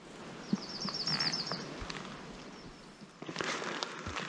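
Forest birds chirp faintly, one repeating a quick trilling call, during quiet hammock camping in the Roaring Plains, with soft footsteps and rustling close by.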